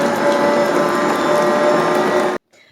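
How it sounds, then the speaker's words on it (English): A stand mixer beats cream cheese and butter together, giving a loud, steady mechanical whir with a rattling hum that runs unbroken and then stops abruptly. "we're going to start off in the mixer with the cream cheese and the butter, and we're going to mix them until they're nice and fluffy"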